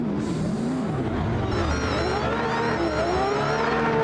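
Engines of several race cars in a drifting video game at Rockingham roar and rise in pitch continuously, loud and close, with a faint voice underneath.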